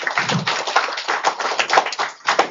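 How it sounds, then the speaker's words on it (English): Applause from a conference audience at the Synergy 2026 event: a steady patter of many hands clapping, fairly close and continuous, with no talking over it. "Please give them a big round of applause."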